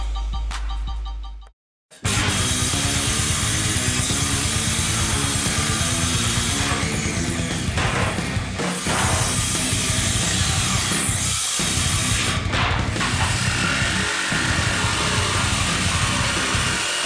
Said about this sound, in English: Now I gotta use a jigsaw.